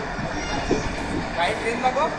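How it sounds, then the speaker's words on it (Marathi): A train passing by produces a continuous rumbling rail noise, heard outdoors and moderately close, with people talking over it. "ट्रेन दाखव भाई"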